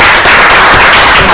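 Loud, dense applause from an audience at a spiritist conference on advanced hypnosis, steady continuous clapping close up with no pauses.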